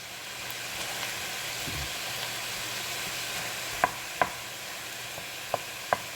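Plenty of onions frying in a soup pot for homemade vegetable soup make a faint, steady sizzle, with a few sharp scrapes and knocks near the end as they are turned.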